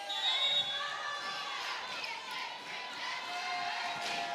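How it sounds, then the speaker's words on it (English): Spectators fill a volleyball gym with a steady murmur of crowd noise, voices blending into a continuous indoor din with occasional brighter shouts, heard at a moderate distance throughout. "Well, Benny, this gym keeps getting more people and more people in it here. Yeah, this is nice crowd."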